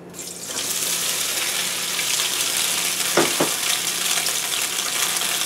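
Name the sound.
tofu sizzling as it is added to hot oil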